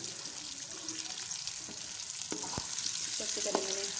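Onions frying in ghee in a kadai, a steady hiss of sizzling fat with occasional stirring clinks and knocks from a utensil against the pan, close by and continuous.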